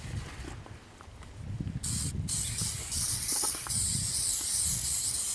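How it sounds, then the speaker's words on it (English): Spray adhesive hisses from an aerosol can onto a pre-cut HCT-01 paper shooting target, loud and close in continuous bursts with a short pause midway. "Little spray adhesive."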